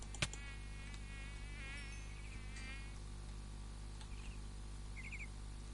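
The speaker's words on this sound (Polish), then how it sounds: "I co mi tu tak syczy? A, jakieś muchy." Flies buzzing in Minecraft, a faint wavering insect whine that comes and goes in short bursts over a quiet background, with one sharp click near the start.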